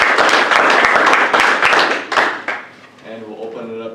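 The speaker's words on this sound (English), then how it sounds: "I think they deserve a round of applause." Audience at a candidate forum claps briskly for about two and a half seconds, then the applause thins and fades as a voice begins speaking.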